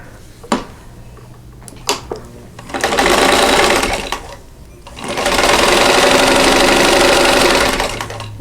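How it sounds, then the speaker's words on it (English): A sewing machine stitching quilt half square triangle units, running in two sustained loud bursts after a few clicks and taps while the fabric is positioned. "So I'm going to go ahead and sew all of those units together."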